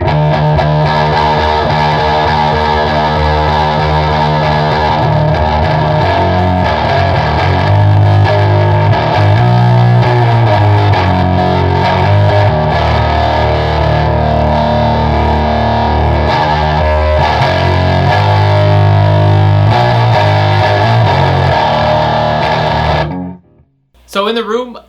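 Electric guitar played through a DOD FX56 American Metal distortion pedal with the distortion dial stuck at maximum, giving a loud, continuous, heavily saturated tone across sustained chords that ends abruptly.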